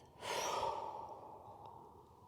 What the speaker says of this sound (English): Exhale out your mouth.